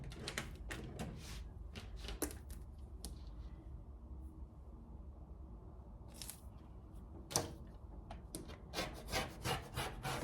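Scissors or a blade cut through fleece blanket edges along a ruler in a run of short, scratchy snips and rubbing strokes, close and fairly quiet, with a brief pause midway.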